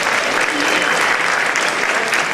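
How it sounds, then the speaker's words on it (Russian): Students applaud together in a hall for Cosmonautics Day: a dense, steady round of clapping that stays loud and close throughout, with no voices rising above it. "Наверное, самое время их поздравить с Днем космонавтики студенческими аплодисментами."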